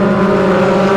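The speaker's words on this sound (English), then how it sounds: "Revs are up from these 2-litre Ford engines." Sports 2000 race cars with 2-litre Ford engines rev together at Thruxton before the start, a loud, steady, sustained engine drone with no gaps.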